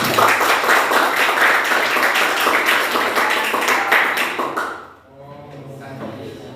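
Classroom audience applauding presenters at a university teacher-training session, a dense burst of clapping for about five seconds that cuts off sharply, followed by a voice speaking.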